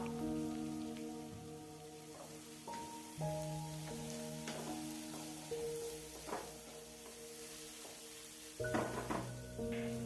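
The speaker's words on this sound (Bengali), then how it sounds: "মশলাটাকে একটু কষিয়ে নিয়ে তাতে আমরা দিয়ে দিলাম 4 থেকে 5টা ছেঁড়া কাঁচা লঙ্কা" Spice paste with Kashmiri red chilli powder and torn green chillies fries in a pan for a jackfruit curry, a soft continuous sizzle under brief stirring scrapes and some tonal background sound, with no speech.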